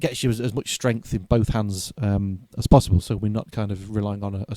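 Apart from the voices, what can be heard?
No everyday noise stands out behind the speech.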